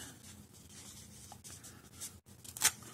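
A Kizer Super Bad Bowie knife, model 1015A2, slices through a strip of 1.5-inch-wide material, giving one quick tearing rasp near the end after a low, quiet background.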